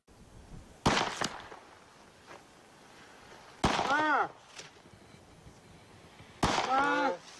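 A machine fires a row of bullets about every 2.7 seconds. Three sharp, cracking bursts fall at steady intervals, each followed by a brief ringing whine, over a faint background.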